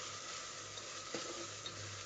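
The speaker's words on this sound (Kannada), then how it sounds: "ಸ್ವಲ್ಪ ಸಿಡಿಯುತ್ತೆ, ನೀಟಾಗಿ ಫ್ರೈ ಮಾಡ್ಕೊಳ್ಳಿ." Ginger garlic paste fries in a hot pan for chicken sambar, giving a steady soft sizzle with a couple of brief stirring scrapes and small pops, heard alone at close range.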